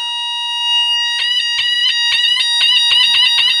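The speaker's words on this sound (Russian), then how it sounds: "Когда включатель замкнут, динамик издает пронзительный звук." A piezo speaker on a Znatok electronics kit sound-generator circuit emits a shrill, steady high-pitched tone that starts faint, then pulses in rapid stuttering bursts, close and alone.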